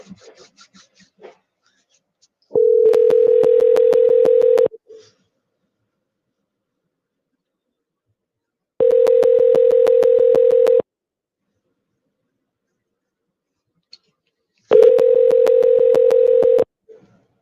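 A telephone call rings out on the line: three long, steady electronic ring tones about two seconds each, separated by several seconds of silence, close and clear, with a few faint clicks before the first.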